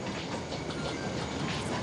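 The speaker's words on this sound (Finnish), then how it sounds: "Juna!" A train rumbles along with a dense, rattling mechanical roar and faint clickety-clack, steady and fairly close.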